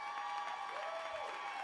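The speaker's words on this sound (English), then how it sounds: "Big round of applause" An audience applauds at a live Future Fund event, a dense, even wash of clapping that holds steady throughout and carries no other sound.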